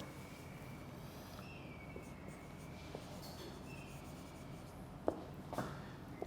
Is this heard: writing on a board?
yes